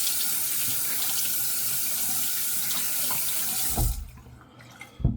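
A bathroom tap runs steadily into a sink for a rinse during a wet shave, a loud continuous splashing rush that cuts off near the end, followed by a couple of brief clunks.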